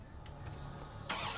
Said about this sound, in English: I love how he starts the car from outside the car.